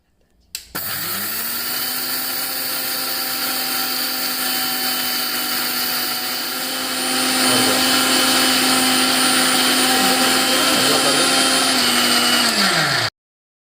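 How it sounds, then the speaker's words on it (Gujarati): Electric mixer grinder with its lid closed, grinding coriander and cumin seeds into powder, starts abruptly with a loud, steady high motor whine and grinding rattle, grows slightly louder midway, then cuts off sharply after about twelve seconds. "તેની ઉપરનું ઢાંકણ બંધ કરીશું અને મિક્સરમાં દળી લઈશું."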